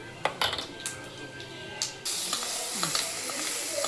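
Tempering for a ground chutney goes into hot oil. A few light metallic clinks of utensils come first, then a sudden steady sizzle takes over and continues.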